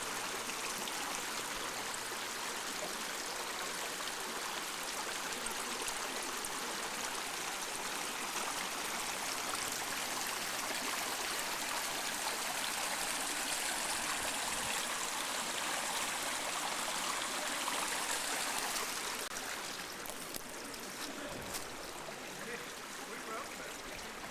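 Water trickles and babbles steadily for a long stretch, a soft continuous flow that eases off near the end.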